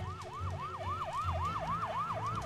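Wailing siren sound effect from the Luigi's Mansion 3 video game, a steady rising-and-falling electronic whoop repeating about every quarter second, loud and continuous over low game rumble.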